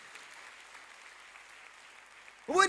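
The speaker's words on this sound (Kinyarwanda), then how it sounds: "Komera Imana amashyi menshi cyane" A church congregation bursts into brief, loud applause at the very end, after a quiet stretch of faint room sound.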